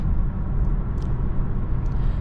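A 2021 BMW 330i xDrive with all-wheel drive accelerates, a steady low engine and road rumble heard from inside the cabin, fairly loud and unbroken.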